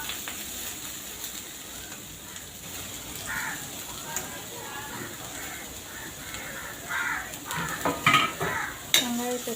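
Onion and mustard seeds sautéing in ghee for an egg gravy, a steady soft sizzle with clinks of a spoon stirring against the pan, growing busier and louder toward the end.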